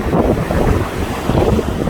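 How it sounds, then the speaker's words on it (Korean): Strong winter sea waves roll onto Iho Tewoo beach in Jeju in a steady, loud rush of surf, mixed with heavy wind buffeting the microphone. "생각보다 파도가 겨울 파도가 세서 서핑을 여기 즐기시는 것 같아요"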